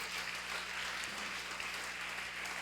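Steady applause from a crowd, a dense continuous patter of clapping with no pauses, moderately loud throughout.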